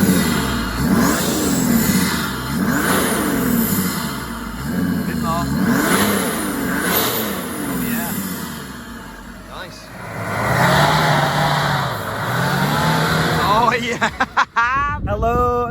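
A Land Rover Defender fitted with an OM606 diesel engine and an upgraded intake revs repeatedly in rising and falling bursts, loud and close, with people talking over it.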